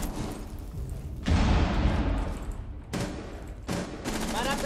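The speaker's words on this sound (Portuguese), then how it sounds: "DJ, tá trocando tiro com você dali mesmo, velho." Gunfire in the Rainbow Six Siege video game, loud dense bursts of automatic shots and booms running through most of the clip with brief pauses between volleys.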